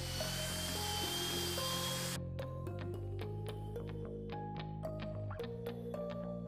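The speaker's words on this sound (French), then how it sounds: "Mélangez la préparation avec un malaxeur à perceuse jusqu'à ce qu'elle soit homogène et lisse." A drill with a mixing paddle stirring tile adhesive: a high-pitched motorized whine runs steadily, then cuts to a lower, fluctuating drone with intermittent clicks and rattles.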